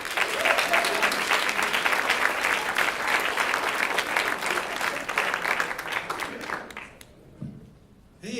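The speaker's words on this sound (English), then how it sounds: "A warm round of applause for your next comic" A comedy club crowd gives a warm round of applause for comic John Grapek, dense clapping filling most of the stretch before it thins out and stops near the end, followed by a brief voice.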